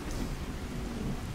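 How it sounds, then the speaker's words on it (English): Steady rain from a weather mod in the video game Fallout 4, a dense continuous patter with low rumbling underneath, constant and fairly loud with no talk. "I really like this weather mod. I love the sound of rain, like, all the time."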